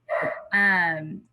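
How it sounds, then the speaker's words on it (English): A dog lets out two drawn-out, whining barks in quick succession, fairly close and clear. "if y'all can hear my dog going crazy in the background"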